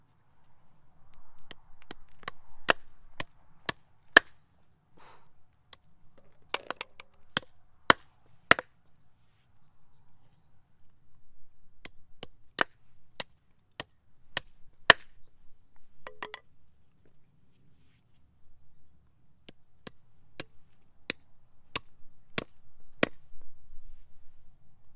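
Light stiletto hammer driving 16 penny common nails, sharp ringing blows struck in quick runs of four to six, repeated in several sets with pauses, close and clear against a quiet background.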